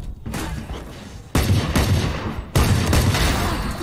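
Gunfire in the game Valorant bursts out in loud, dense volleys, with sharp onsets near the middle and again later, keeping a heavy, sustained crackle throughout.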